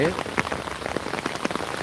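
Rain falls on the Chiknai river in a steady close patter, with a brief murmur of human voice faintly mixed in beneath the drops.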